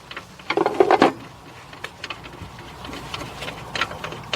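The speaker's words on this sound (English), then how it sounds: "Simply loosen the front screws with the open-end wrench with a size of 13." A 13 mm open-end wrench loosens screws on the strut brace of a Škoda Enyaq, with quick ratchety clicks and metallic taps close by in short bursts.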